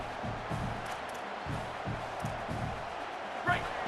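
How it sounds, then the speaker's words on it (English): A stadium crowd in the game College Football 27 keeps up a steady, broad roar, with a rhythmic pulsing thump beneath it and a brief swell near the end. "The roar of the crowd trying to fuel this defense to keep them pinned in their own end"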